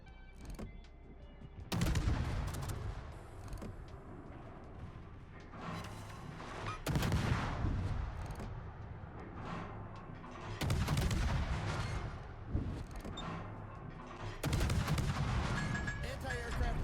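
Naval guns fire in the World of Warships video game as heavy booming salvos, each a loud blast with a rumbling decay. Four or five are spaced a few seconds apart over constant battle ambience.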